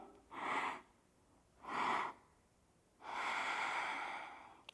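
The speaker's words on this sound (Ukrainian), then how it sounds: "вдих, вдих, видих" Three audible breaths during yoga practice, two short, strong nasal inhales followed by a longer, steady exhale, close and fairly soft, with no talk.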